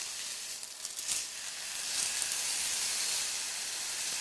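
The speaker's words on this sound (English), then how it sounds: "We're getting a nice sizzle on this now." Pork tenderloin sizzling in a hot pan, a steady close hiss that swells slightly after the first couple of seconds and holds constant, with no talk.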